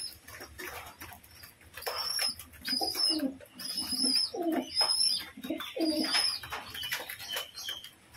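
Caged pigeons coo during a spell of heavy rain, with repeated throaty cooing bursts that rise and fall in a loose rhythm, close by, over a soft steady background hiss.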